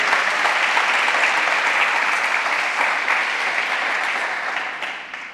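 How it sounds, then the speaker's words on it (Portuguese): Church congregation applauding in worship, a dense sustained burst of clapping that fills the room evenly and tapers slightly toward the end, with no talk over it. "Dá um aplauso a Jesus aí"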